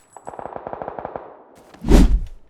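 Automatic gunfire in PUBG, a rapid burst of about a dozen evenly spaced shots followed by one heavy booming blast, loud and close with no talk.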